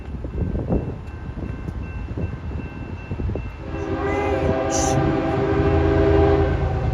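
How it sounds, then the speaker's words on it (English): A BNSF ES44DC locomotive leads a loaded coal train past at close range, its engine rumbling loudly before the horn sounds in long steady blasts, with wheel and car noise underneath. "I was hoping there was a train"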